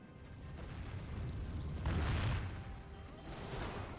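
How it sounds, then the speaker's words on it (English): Distant artillery booms rumble through a large medieval battle between Byzantine and Turkish armies in Total War Medieval 2, swelling to one heavier low thud midway over a steady background roar. "Artillery in the distance"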